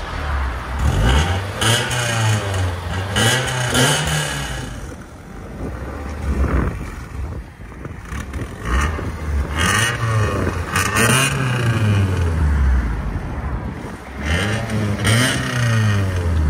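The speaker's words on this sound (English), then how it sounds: "Give it gas." A 1977 Toyota Celica GT with a swapped 3SGE engine revs repeatedly through its exhaust, each blip rising and falling in pitch over a steady idle, loud and close, with no talk.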